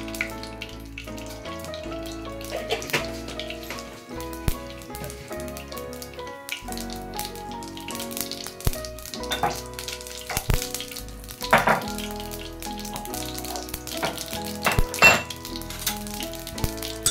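Mustard and coriander seeds crackle and sizzle in hot oil for a spicy Indian vegetable dish, a soft, steady frying hiss with scattered pops and light clinks of a utensil against the pan.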